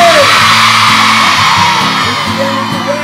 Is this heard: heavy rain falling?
no